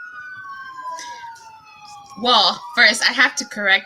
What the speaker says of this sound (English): I want to apologize for the sirens in the background